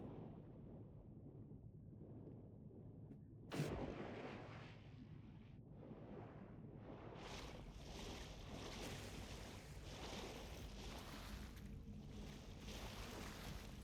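A character swimming through sea water in the video game Avowed: after a quiet start and a sudden splash, a rushing wash of water and waves swells and continues steadily.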